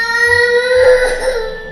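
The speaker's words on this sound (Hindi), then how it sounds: "बच्चा रो रहा है" A child's crying sound effect: a sustained, wailing infant-like cry with rising pitch, loud and alone, lasting under two seconds with no talk over it.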